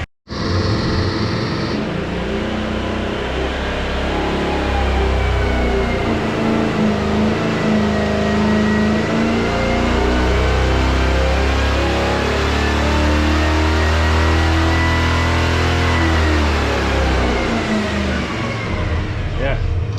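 A Chevy 454 V8 with a small hydraulic roller cam runs loud and close on an engine dyno under load, its deep exhaust roar holding steady for about twenty seconds with slow rises and falls in engine speed.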